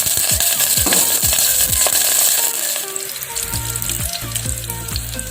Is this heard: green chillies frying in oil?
yes